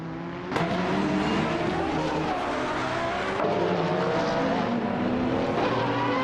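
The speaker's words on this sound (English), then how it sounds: "Kekrich is leading the race in the iconic 1992 Peugeot 905" Race cars roar through a video game race led by a 1992 Peugeot 905, with engines droning and shifting pitch continuously, a sharp burst near the start and steady loud motor noise throughout, no talk.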